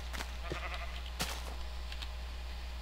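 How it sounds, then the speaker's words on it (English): Minecraft sheep bleat in a few short, thin cries, one sharper and louder than the others, over a steady low hum of game background in a farming session. "Sheep, really, get off my crop."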